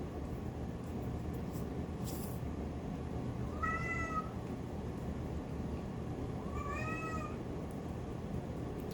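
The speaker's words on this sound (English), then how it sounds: "You guys can hear my cats in the background," Two separate meows from pet cats, one in the middle and one near the end, sound in the background over a steady low hum. Each is a short, rising-then-falling call, moderately faint.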